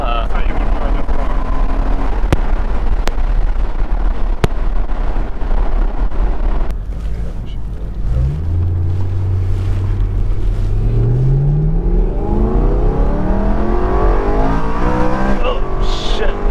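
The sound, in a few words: 2013 BMW M3 Competition Package engine revving, accelerating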